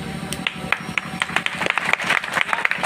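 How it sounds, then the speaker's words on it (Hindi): An audience at a college greenery festival in Hazaribagh claps, a loose, uneven scatter of hand claps with sharp individual strikes, fairly close and moderately loud. "जोरदार तालियों के साथ"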